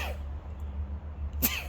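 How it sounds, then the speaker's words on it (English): A single sharp sneeze bursts out near the end, close and loud, during a spring flowering container planting session, over a steady low background hum. "I'm going to sneeze."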